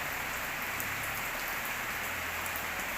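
Morning rain falls steadily in rural Isan, Thailand, at Ban Ba Hi, a dense, even patter on surfaces filling the whole stretch with no one speaking.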